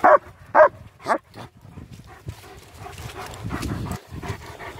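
German shepherds bark in a few sharp, loud, close woofs spaced about half a second apart, then give way to softer whimpers, shuffling and movement through mud.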